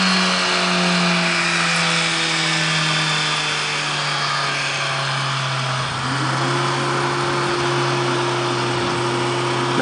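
Engine of a 2017 Suzuki GSX-R1000 with its exhaust valve opening, a steady close idle drone that shifts as the throttle rises, the pitch stepping up near the end, with no talk over it.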